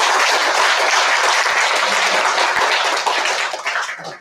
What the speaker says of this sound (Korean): 다시 한번 응원의 박수를 부탁드리겠습니다